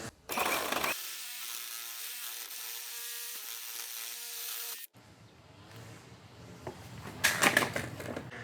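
A Milwaukee Sawzall reciprocating saw fitted with a shorter 9-inch Diablo blade cuts through a wooden board, a steady loud buzzing drone lasting several seconds, then cutting off into rougher, scraping cutting noise with sharp bursts near the end.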